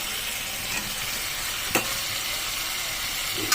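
Boiled raw jackfruit and fried potatoes going into a hot pan of prawn masala, a steady close sizzle with one sharp clatter partway through.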